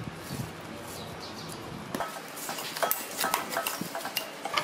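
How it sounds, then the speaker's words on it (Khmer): Seasoning being stirred by hand into prahok fish meat in a bowl, with soft squelching and scraping plus a scatter of sharper utensil clicks against the dish, close and fairly quiet, without talk. "ច្របល់គ្រឿងឲ្យចូលជាតិជាមួយនឹងសាច់ប្រហិតសិន"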